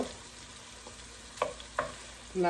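Chicken pieces fry in a pan for a noodle dish, a faint steady sizzle under occasional light clinks of stirring, with no voices.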